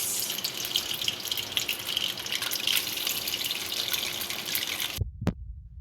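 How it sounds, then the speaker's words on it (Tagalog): Potatoes frying in hot oil: a dense, steady crackling hiss that runs unbroken, then cuts off abruptly near the end. "Dito nag-init na ako ng mantika. Pirito na tayo ng patatas."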